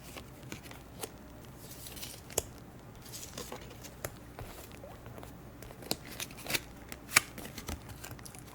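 Tarot cards being shuffled and drawn from a deck: soft, close, irregular papery riffles, slides and light taps, with a few sharper snaps, quiet and without talk.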